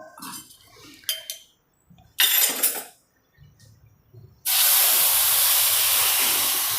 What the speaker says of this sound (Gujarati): હવે એમાં આપણે દૂધ નાખીશું